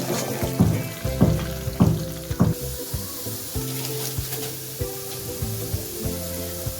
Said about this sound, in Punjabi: ਲਸਣ ਐਡ ਕਰ ਦਿੱਤਾ ਹੈ ਜੀ ਗੈਸ ਨੂੰ ਫੁੱਲ ਕਰ ਦਿੱਤਾ ਹੈ ਭੁੰਨਾਂਗੇ